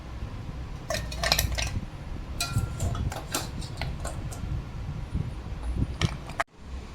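Syrup-soaked karachi pulu, fried semolina sweets, are transferred into a bowl with a series of bright clinks and taps of a utensil against metal dishware, close and clear over quiet kitchen background.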